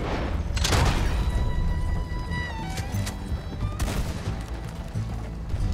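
Gunshots fired during a stagecoach chase in the video game Red Dead Redemption 2, a few sharp cracks over a steady rumble of hooves and wheels, with no talking.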